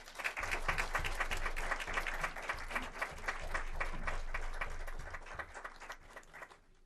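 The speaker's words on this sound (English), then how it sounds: "Give them a hand of applause." School board meeting audience applauding the evening's honorees, a full sustained round of clapping from many hands with a low rumble underneath, holding steady for several seconds before tapering off at the end.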